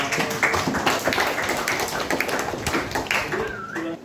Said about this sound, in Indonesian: Silakan kasih tepuk tangan untuk kelompok 1, kelompok 4, silakan ditutup.